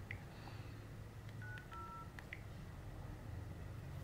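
Keypad dialing tones on an LG V50 smartphone, a quick run of short electronic beeps heard close and fairly faint over a low background hum.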